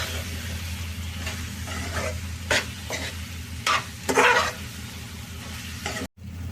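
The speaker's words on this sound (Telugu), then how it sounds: "కారం కూడా వేసాను కదా ఒకసారి తిప్పుకున్నాం" Crab curry with onion, tomato and chili powder is stirred in a pan, a close spoon scraping and stirring over a steady oily sizzle, with several louder scrapes and no voices.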